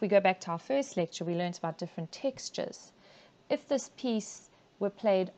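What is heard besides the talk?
None of the usual background noises is heard.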